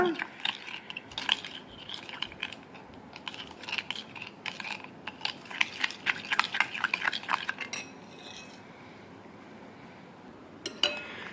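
Dalgona coffee mixture is beaten by hand in a bowl with rapid, rhythmic clinks and scrapes of a utensil against the bowl, close and fairly faint, which pause near the end before one last clatter.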